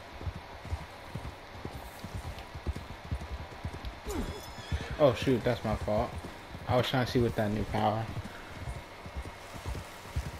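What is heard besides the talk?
horse hooves in Red Dead Redemption video game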